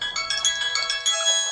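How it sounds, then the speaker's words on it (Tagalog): A cellphone ringtone plays a short, bright electronic melody of quick repeating tones, clear and close, with no talk over it. "Agun-uni ti cellphone ko."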